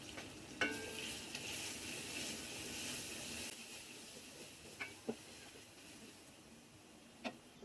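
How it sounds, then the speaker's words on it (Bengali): Ground spices, including chili, coriander and cumin powder, sauté in a pan for beef nihari with a faint, steady sizzle and hiss, marked by a few sharp clinks and scrapes of stirring. "এখন সবগুলো মশলা খুব ভালোভাবে কষিয়ে নিচ্ছি"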